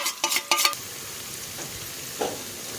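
Bitter melon leaves and onions are sautéed for Ilocano sinanglaw in a backyard cooking setting, opening with a quick burst of clattering stirring against the pan, then a low, faint sizzle with one more brief scrape.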